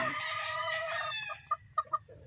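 Chickens kept as breeders, a rooster's crow trailing off followed by a few short close clucks, all without talk.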